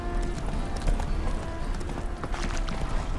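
Horse hooves clip-clop at a steady walking pace in the video game The Witcher 3: Wild Hunt, over a low rumbling background, with faint scattered sounds mixed in.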